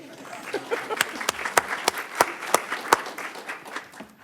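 Applause from a school board meeting audience, a dense wash of clapping with a few sharper, louder claps standing out, fairly close and steady throughout.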